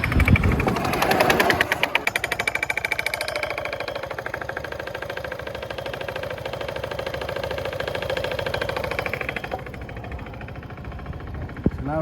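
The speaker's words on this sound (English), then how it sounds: "So let us start the bike." A Honda Forza MF08 scooter with a faulty driven pulley sensor starts close by, cranking briefly and catching into a loud, steady, rapidly pulsing idle that runs without a break for about ten seconds before easing off.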